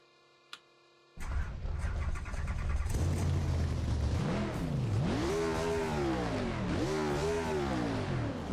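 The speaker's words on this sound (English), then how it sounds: "So, gotta turn the car on." A NASCAR stock car engine from a BeamNG video game mod cranks and catches with a sudden roar, settles into a loud idle, then revs in two rising and falling sweeps.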